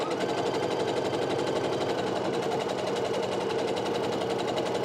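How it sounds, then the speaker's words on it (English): A sewing machine stitches across a pieced quilt block with pins in the fabric, running loud and close with a dense, fast, even needle chatter that carries unbroken from start to finish. "I'm gonna go ahead and sew until I hit that needle, the pin that's in the center"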